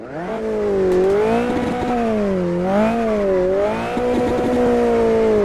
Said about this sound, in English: Sounds a bit like a rally car, but it has an inline-4